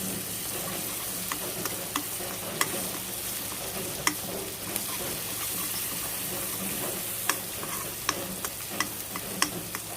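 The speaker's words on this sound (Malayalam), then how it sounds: "ഇനി ഇത് ഫുൾ തീയിൽ തന്നെ ഇട്ടിട്ട് ഇങ്ങനെ ഇളക്കി ഇളക്കി മൂപ്പിച്ചെടുക്കാം" Jackfruit seeds crackle and sizzle in a pan over full flame while a spoon scrapes and stirs, with sharp pops scattered irregularly over a constant frying hiss.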